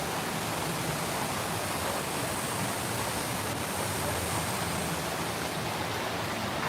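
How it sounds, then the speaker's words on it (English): Heavy rain pours steadily outside a restaurant in Phnom Penh, Cambodia: a dense, unbroken hiss of downpour, close and even throughout, with no talking. "listen to it pour."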